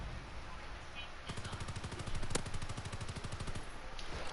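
Rapid automatic gunfire from a weapon in a World War II shooter game, a fast even stream of shots that holds for several seconds at moderate loudness and swells briefly in the middle.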